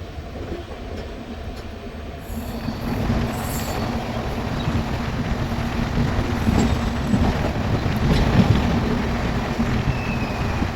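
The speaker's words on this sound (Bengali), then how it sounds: "এখন কিন্তু রয়েছে ডিজেল লোকোমোটিভ।" A passenger express hauled by a diesel locomotive rumbles steadily along the rails near Ballari Junction, a loud continuous roar with wheel clatter and faint high squeals swelling midway.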